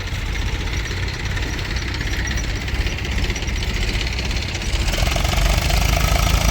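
A tractor spreading manure on a farm field produces a loud, continuous knocking engine drone that rumbles steadily throughout and grows a bit stronger near the end, with no talking.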